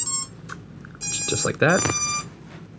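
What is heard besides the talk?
FPV drone motors beeping after disconnecting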